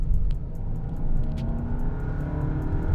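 A 2020 Volkswagen Passat with a DSG gearbox in S mode pulls hard from inside the cabin, a deep engine rumble that rises steadily in pitch as the car accelerates.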